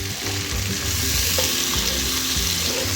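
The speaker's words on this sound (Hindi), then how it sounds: "मसाले को अच्छे से भून लेंगे।" Whole spices roasting in ghee for a dhokli salan: a dense, continuous sizzle heard close up, with low thumping stirring strokes underneath and no voices.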